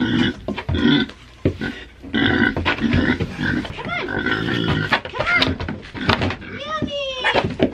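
Pigs being moved cross country give grunts and squeals up close among thuds and a clattering door, while people talk over them continuously.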